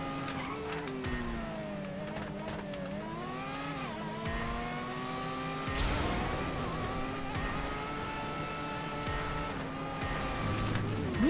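An open-wheel race car engine in GTA 5 Online revs steadily, its tone climbing and dipping through gear changes and corners, loud and continuous for the whole stretch with a sharp surge midway.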